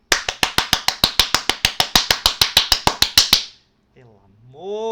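Sharp, evenly spaced claps in a classroom, about five per second, stop abruptly after roughly three seconds, and then a voice starts speaking.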